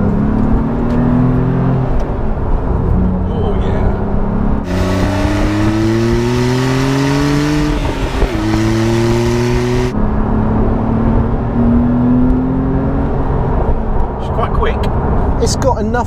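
Porsche 911 Carrera T under way, its engine note climbing and falling through gears in strong, steady pulls that fill the cabin, with people talking over it.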